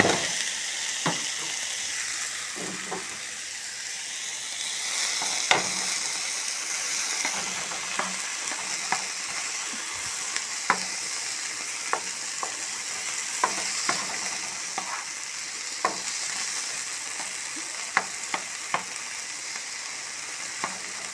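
Onion and tomato sizzle steadily in a hot pan for Mexican-style eggs, a continuous close frying hiss broken by scattered sharp pops and crackles, with no voices.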